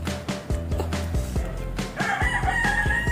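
A rooster crows loudly and close in a rural yard, one drawn-out call rising near the end over steady background noise, with no talking.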